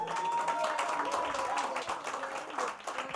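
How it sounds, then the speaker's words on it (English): Audience applause for a summit panel of people living with HIV fills the room as a steady wash of clapping, heard under a speaker's voice that continues throughout. "Round of applause for all of them."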